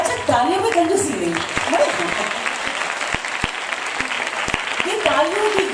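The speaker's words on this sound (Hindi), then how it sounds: "ये तालियों की गूंज हमें साल भर तक काम करने की प्रेरणा देती है जी।" Sustained audience applause at a national theatre festival fills the room throughout, a dense continuous clatter of many hands with a voice talking over it from a loudspeaker.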